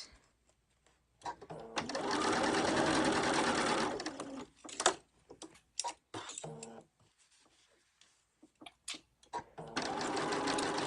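A sewing machine pieces curved fabric seams, running in a steady two-second burst, then stopping and starting in short stitches before a final sustained run, close and fairly loud with no talk.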